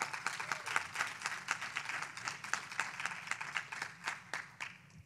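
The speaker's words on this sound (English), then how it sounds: "Can we just give them a quick round of applause?" An audience applauds cancer warriors and survivors at a talk with a lively round of dense clapping that swells and then tapers off toward the end.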